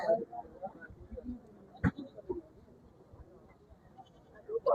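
Goats bleat at a busy Saturday goat market, with short calls rising at the start and end over a steady crowd murmur as someone talks nearby.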